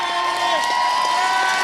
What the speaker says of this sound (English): The crowd is ecstatic here for that last second goal